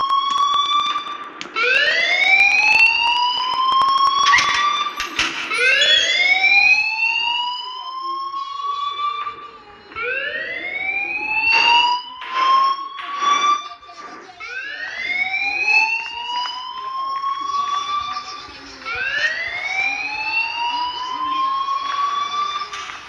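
A school fire alarm in the video game Life is Strange wails in repeated rising electronic sweeps, loud and insistent, each whoop climbing in pitch before cutting off and starting again, with faint voices underneath.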